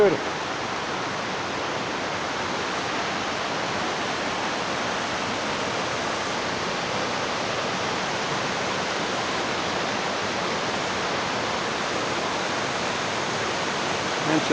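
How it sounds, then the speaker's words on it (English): Running water pours down the Oxford Falls Cascades in Sydney after heavy rain, a constant broadband roar that stays even and full throughout, close by with no pauses. "Don't you love the sound of running water?"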